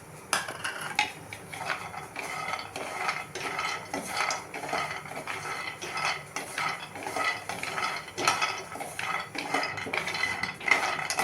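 Almonds and cashews dry roasting in a pan over low flame, stirred with a utensil, giving a steady run of close, quiet scraping and rattling clatter with no talk.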